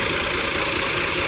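A tractor engine idles steadily and close while the tractor sits stuck in a ditch, a continuous, even mechanical drone with a rough low throb.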